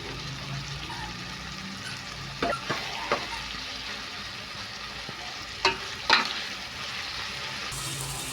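Chopped chilies, tomato and capsicum fry in a pan for biryani, a continuous close sizzle with a few louder clatters and stirring knocks midway.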